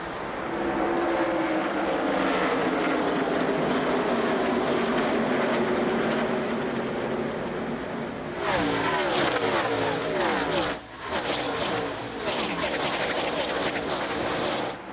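NASCAR Busch Series stock cars racing at Homestead in 2003, a loud sustained engine roar that swells as cars pass close by, with a brief dip before the roar surges back.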